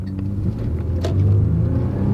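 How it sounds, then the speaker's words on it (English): A V6 SUV engine with 214,000 miles on it, floored from a stop and climbing in revs, a loud steady rumble and whir heard from inside the cabin with no talk. "Now that V6 engine sounds great, still shifts like a dream"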